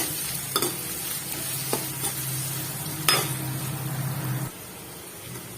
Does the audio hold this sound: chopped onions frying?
yes